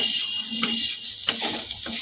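Fried potatoes for Bengali aloo ghugni are stirred in a pan after the gas is switched off, with steady soft sizzling and a few scraping spoon strokes.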